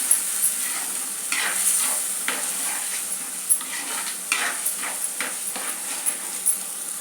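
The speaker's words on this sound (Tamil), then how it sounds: "இதுக்கு அப்படியே எண்ணெயிலேயே இந்த மசாலா பொடி சேர்த்து வதக்கிடலாம்." Masala powder fries in oil while a spoon stirs it for vatha kulambu. Close sizzling runs under irregular scraping stir strokes against the pan.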